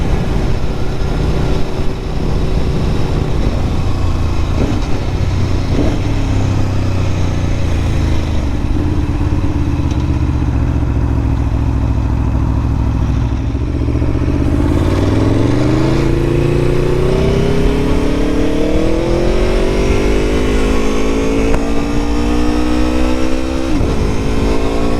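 Aprilia Tuono motorcycle ridden on a Christmas Day outing, its engine droning loud and steady from the rider's position, then revving up with rising pitch as it accelerates, wind rush throughout.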